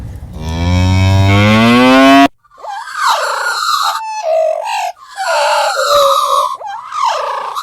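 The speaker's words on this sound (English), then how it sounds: "this is the sound of the cow." A cow moos in one long, loud, sustained low call, followed by a string of shorter, processed vocal moo-like calls shaped with the Krotos Humanizer, alone and close.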